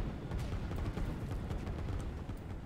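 Artillery and battle fire in a real-time strategy game tournament match, a dense continuous rumble of distant booms and shots with no clear gaps, steady and moderately loud throughout.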